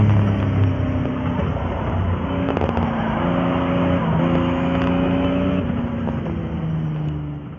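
Simulated engine of a Porsche RUF CTR Yellowbird in the Assetto Corsa racing game, a steady high-revving flat-six whine rising and dropping through gear changes, loud and alone without talk.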